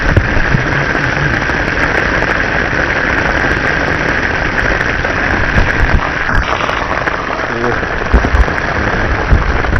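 Steady rain hisses down continuously, with a low engine rumble underneath and no voices.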